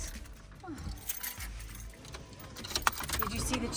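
Keys jangling close by, light metallic clinks and rattles scattered through a few seconds over a low background rumble, with a voice speaking briefly.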